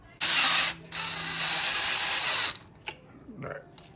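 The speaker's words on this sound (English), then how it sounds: "We're gonna go ahead and just basically screw this in with a Phillips bit on a drill." A cordless drill with a Phillips bit drives self-tapping screws during an electric scooter motor swap, giving two loud sustained whines close up, separated by a short break, with faint clicks and a brief voice afterward.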